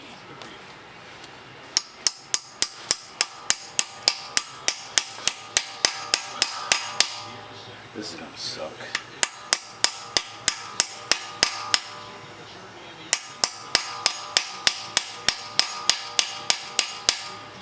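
Rapid, regular metallic hammer strikes ring out in long bursts with short pauses between them, close and loud, while removing a transmission part from an LS-swapped Monte Carlo SS; someone speaks briefly in the middle.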